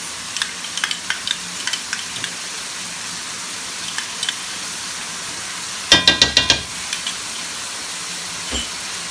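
Ginger garlic paste stirred in a frying pan, with a soft steady sizzle and scattered spoon scrapes, then a quick cluster of sharper scraping clicks near the end.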